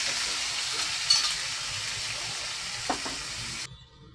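Loud, steady sizzling of chicken being sautéed in a hot pan, with a few small stirring clinks, cutting off abruptly near the end.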